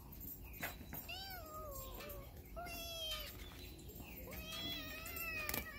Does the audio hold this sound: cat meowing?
yes